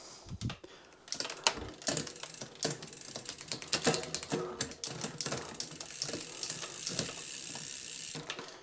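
A bicycle's 12-speed drivetrain on an 11-51 cassette clicks through gear shifts, with a close, irregular series of sharp mechanical ticks and ratcheting clatter.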